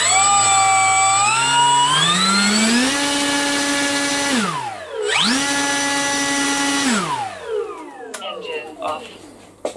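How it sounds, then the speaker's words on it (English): A Yak 52 model aircraft engine starts and runs, a whining electric-sounding tone that climbs in pitch, holds steady, dips and rises again before spinning down near the end. "Engine on."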